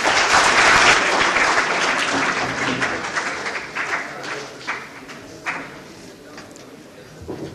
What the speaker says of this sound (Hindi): प्लीज स्वागत करें जकरिया मैडम का, स्वागत करें तालियां बजाकर।